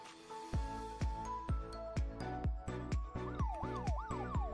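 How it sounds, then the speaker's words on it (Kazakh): An ambulance siren sounds alongside its flashing beacon, a loud, steady run of rhythmic pulses that shifts partway through into a rising and falling wail. "Мына жағдайда жедел жәрдем көлігі сигналын, дыбыстық сигналын және жарқылдақ маягын қосып тұр."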